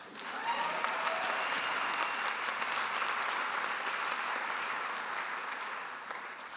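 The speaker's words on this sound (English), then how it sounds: "Yes, let's clap for that." Sustained audience applause fills a commencement ceremony hall at the Humphrey School of Public Affairs. It is a dense, steady clapping from many hands that holds evenly throughout and eases off slightly near the end.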